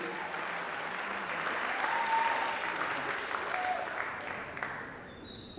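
A school crowd at a homecoming coronation applauds the court candidates, steady dense clapping that swells slightly in the middle and then tapers, with faint cheers and voices mixed in.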